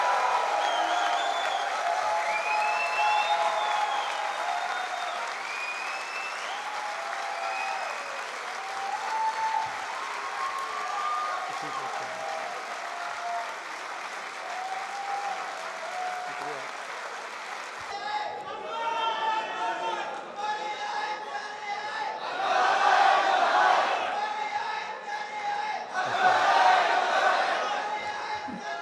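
Audience at a literary festival closing ceremony in Lahore welcomes Anwar Maqsood, with broad crowd noise and voices early on, then a shift to louder swelling applause with cheers that rises in waves toward the end.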